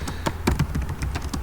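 Steady typing on a computer keyboard, a quick run of crisp key taps with an uneven rhythm, close and fairly quiet, with no voices over it.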